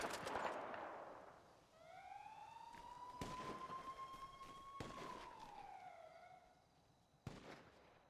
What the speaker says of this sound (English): Because I did hear the siren.